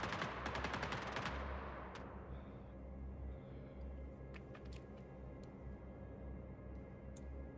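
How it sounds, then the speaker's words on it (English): Rapid gunfire rattles out in Star Citizen, an opening burst of quick shots that trails off into a few scattered faint pops over a low ambient hum, with no talking. "Oh, I hear somebody shooting at me."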